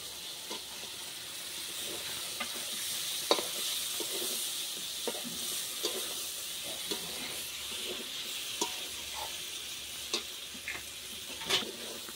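Koi fish dropped into hot spiced oil in a pan give a steady broadband sizzle, with soft stirring clicks and scrapes scattered throughout, moderately close, with no voices.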